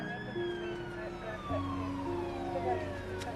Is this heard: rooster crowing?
no